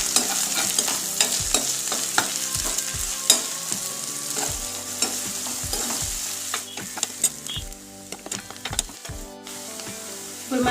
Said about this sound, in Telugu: పోపు వేగిన తర్వాత దీంట్లో ఒక పెద్ద సైజు ఆనియన్ తీసుకొని కట్ చేసుకొని ముక్కలు వేసుకుంటున్నామండి